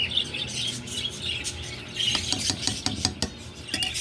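Pet birds chirping at feeding time, scattered short tweets and chirps close by, mixed with light pattering and small mechanical clicks, with no talking.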